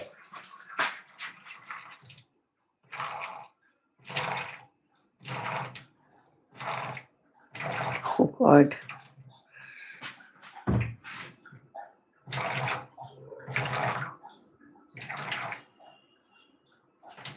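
Water is poured out for a thirsty street dog in bursts of splashing and running flow, separated by pauses, with a brief exclamation from a person partway through.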